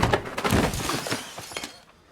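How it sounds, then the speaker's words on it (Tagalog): Glass shatters inside an apartment, a loud crash followed by a spray of breaking and tinkling fragments that trails off over about two seconds. "May narinig si Osman na nabasag sa loob ng apartment"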